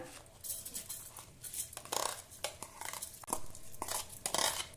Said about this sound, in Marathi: मिक्सरच्या भांड्यामध्ये हे भिजवलेले तांदूळ घालूया